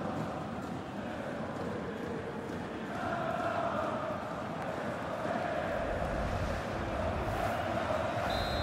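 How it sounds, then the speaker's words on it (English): Stadium crowd from the FIFA 21 football video game, at a Bundesliga match between Wolfsburg and Werder Bremen: a dense, continuous roar that swells louder partway through and holds steady to the end. "just listen to the crowd. They want a bit more."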